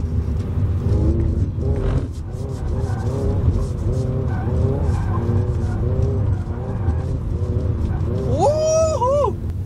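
An electric Hyundai Ioniq 5 N hums steadily while tires squeal in rising, wavering screeches near the end, the car sliding through a drift.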